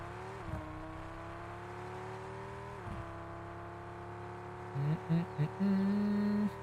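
Car engine droning steadily while driving in the Fortnite video game, with a few shifts in pitch, and a louder burst of tones near the end.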